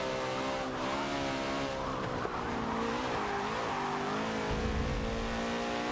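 A race car in a racing video game drives with a continuous, loud engine drone that rises and falls in pitch with brief tire squeals, steady throughout with no talking.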